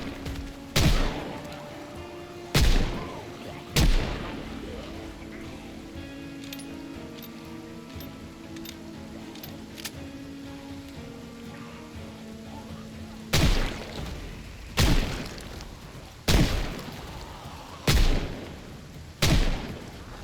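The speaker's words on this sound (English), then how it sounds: "I'm target shooting with moving lethal targets" Gunshots ring out while target shooting at zombies around a prison perimeter in a video game: sharp, loud single reports spaced a second or two apart, several early on, a long lull over soft background tones, then a steady run of five more.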